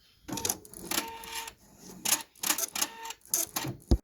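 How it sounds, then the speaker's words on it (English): Embroidery machine sewing a satin stitch border around an applique, bursts of rapid mechanical clattering separated by short pauses, close and moderately loud, with no talking. "now it's ready to stitch the satin stitching for this design, so I've put my hoop back on the machine, and I'm going to let it start doing that"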